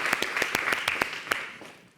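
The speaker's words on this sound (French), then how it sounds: "On s'applaudit, ouais." A studio audience on a French local TV show applauds with brisk, distinct claps that fade out over about two seconds.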